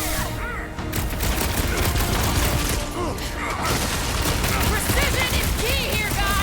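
Rapid gunfire and combat effects in the Guardians of the Galaxy video game, dense, continuous and loud, with characters shouting over the bursts.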